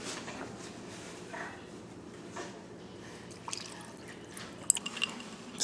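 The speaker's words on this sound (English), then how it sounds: "So I'm gonna pour a little in a glass." Cold brewed coffee is poured into a glass indoors, giving a faint liquid trickle with soft drips and a few small splashes toward the end, quiet and close.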